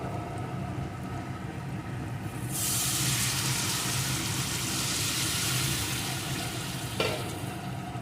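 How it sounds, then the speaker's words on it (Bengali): Soybean and potato curry sizzles and fries steadily in a pan, then a sudden broadband rush lifts the level as hot water is poured in and keeps hissing, with a brief clink near the end; no one speaks. "এখন এর ভিতরে দিয়ে দেব পরিমাণ মতো গরম জল"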